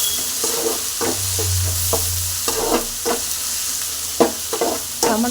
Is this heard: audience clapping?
no